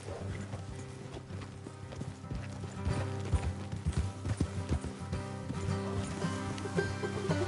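Horse hooves clip-clop in Red Dead Redemption 2, a steady run of close, rhythmic hoofbeats over a low ambient game score, with a brief whinny and no talk.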